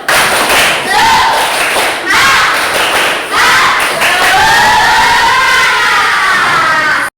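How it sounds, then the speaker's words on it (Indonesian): A classroom of schoolchildren performs a rhythmic spirit clap, loud group claps and thumps in patterned bursts with the children chanting and shouting together, close and energetic. "kita tepuk semangat dulu ya"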